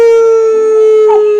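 A man imitates a wolf howl with his voice, one sustained, loud, steady tone held for over a second with a slight wavering rise near the end, heard alone.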